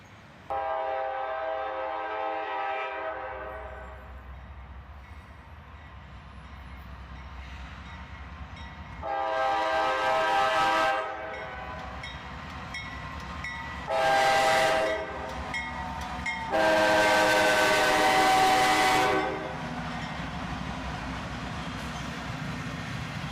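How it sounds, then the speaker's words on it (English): A CSX freight train led by a pair of Norfolk Southern locomotives rumbles steadily past with a low roar, and the horn sounds in several loud blasts partway through. "A bit of foreign power today with a pair of Norfolk Southern locomotives in the lead"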